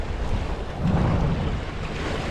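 Ocean waves washing against a fishing pier at Brandenburg Park, a steady broadband roar of surf mixed with wind buffeting the microphone, swelling slightly midway and continuing without pause.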